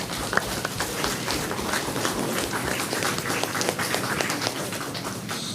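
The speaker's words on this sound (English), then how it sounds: "Let's give them a round of applause." Audience applause for primary school quiz contestants at an Anguilla Day event, a continuous dense patter of many hands filling the room at an even level throughout, with no voices.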